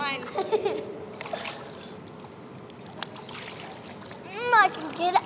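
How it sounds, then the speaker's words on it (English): Water splashes and sprays as children swim in a pool with their grandparents, light intermittent splashing under frequent talking and children's voices, busier toward the end. "Oh, don't spray water at me."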